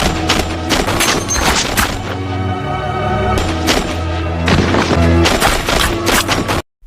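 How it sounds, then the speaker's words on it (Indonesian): Soldiers open fire on a man in a film scene: loud, rapid bursts of gunshots come in several volleys over a low rumble, then stop abruptly at the end. "Frank meninggal ditembak oleh 2 orang tentara."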